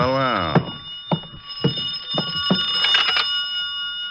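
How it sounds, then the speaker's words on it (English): In a radio drama, an old telephone rings behind a hotel room door, repeated bell bursts about every half second, muffled and mid-distance, with a steady tone and no voices. "I could hear the phone ringing from somewhere inside"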